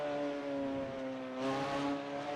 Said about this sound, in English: these are truly remarkable external engine sounds